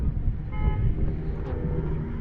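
A train-style air horn fitted to a small car, probably a yellow Renault Twingo at a Montlhéry club gathering, sounds a steady held toot for about a second over loud, continuous crowd and engine noise.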